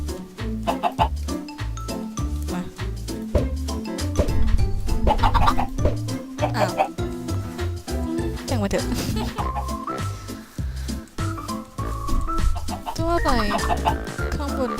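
Chickens cluck and squawk in Minecraft over bouncy, steady background music, with a person talking along the way.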